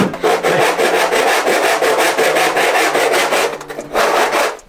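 A hand saw cuts into a wooden table with fast, rhythmic back-and-forth rasping strokes, loud and close, continuing steadily for several seconds without speech.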